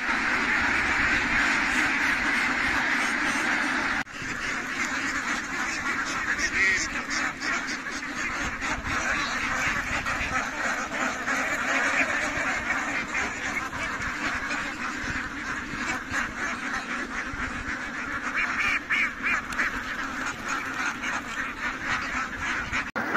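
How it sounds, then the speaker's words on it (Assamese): A large flock of domestic ducks quacks continuously, a dense overlapping chorus at a wetland in Morigaon district, Assam, with no voices. "এয়া মোৰ পাছফালে দেখিছে, এতিয়া এই হাঁহখিনি বিললৈ চৰাবলৈ নিয়া হ'ব"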